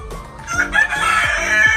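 A rooster crows loudly nearby in one drawn-out call, with a few soft clucks from Dekalb White laying hens underneath.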